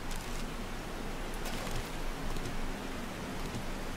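Heavy rain weather in the survival game 7 Days to Die, a dense, steady hiss of downpour with faint drops and crackles throughout, loud and continuous with no speech.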